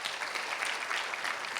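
A church congregation applauding during a morning prayer service, a steady dense wash of many hands clapping together, evenly sustained and fairly distant, with no talk over it.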